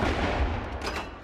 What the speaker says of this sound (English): King's Troop Royal Horse Artillery fired a 41-gun salute in Green Park